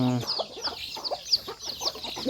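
Native chickens, hens and chicks, clucking and peeping busily up close during feeding on a farm in Davao City, with overlapping calls throughout.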